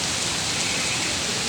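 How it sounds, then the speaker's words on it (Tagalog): Very heavy rain pours down in a dense, steady, unbroken roar that fills the whole moment, loud and close with no letup. "Sobrang lakas ng ulan."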